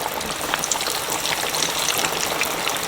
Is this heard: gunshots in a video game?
no